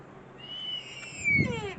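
An owl at a castle gives a short, faint, drawn-out call that rises and falls, heard alone against quiet outdoor background.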